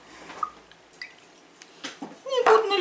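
Vodka is poured into a glass in short splashy trickles that end in a brief gurgling glug, with a voice heard intermittently around the pour.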